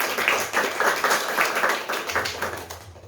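An audience claps hands at a youth gathering on living together across diversity, a steady round of rhythmic clapping that tapers off toward the end, with no talking over it.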